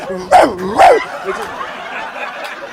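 A man imitates a dog with two loud, yelping barks in quick succession at close range, followed by a fainter trailing whimper.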